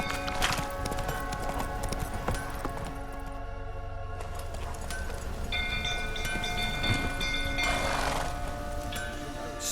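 Horse hooves clip-clop steadily in The Witcher 3 video game, a rhythmic trot over a bed of game ambience and music, with a brief voice near the start.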